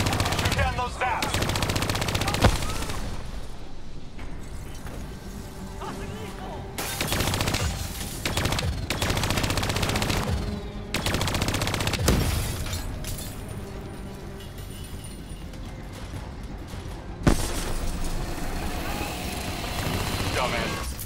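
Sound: gunfire in Call of Duty: Black Ops 3 video game

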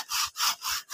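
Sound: sawing with a saw

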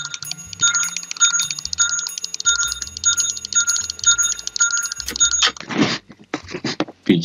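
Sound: bell ringing in video game Dark Deception

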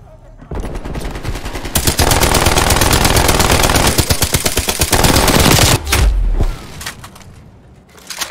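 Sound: enemy turret machine gun fire in Call of Duty: Black Ops Cold War video game

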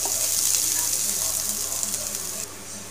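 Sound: frying onion and spices masala in a pan

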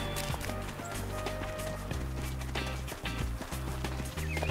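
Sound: horse running in video game Kochane Zwierzaki: Konie i Kucyki

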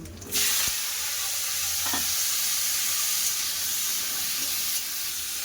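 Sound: spices and chilli sizzling in hot mustard oil

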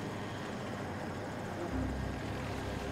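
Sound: attack helicopter and Nightbird helicopters in a video game

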